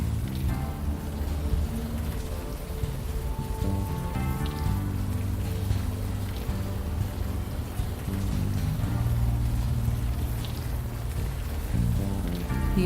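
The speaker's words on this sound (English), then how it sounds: "Still raining." Steady rainfall in the video game Unavowed, a continuous dense patter that runs throughout beneath layered musical tones, with no talking.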